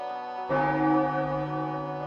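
A church bell in a video game tolls for the dead, striking once about half a second in with a loud, rich ringing tone that hangs and slowly fades, with no talk over it.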